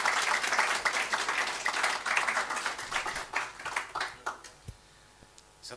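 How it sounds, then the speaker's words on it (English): An audience at the Brisbane Cardano Summit 2022 claps loudly in dense applause that gradually thins to a few scattered claps and near silence by the end. "Round of applause."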